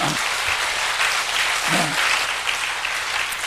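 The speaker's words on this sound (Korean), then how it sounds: "우리 박수로 우리 하나님께 영광 돌렸습니다." A church congregation claps together in praise during a worship service, a loud continuous wash of applause throughout, with a brief voice rising under it near the start and again midway.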